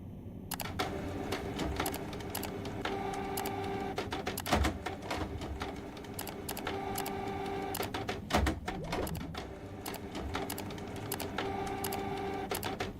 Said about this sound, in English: is that just the sound of the printer?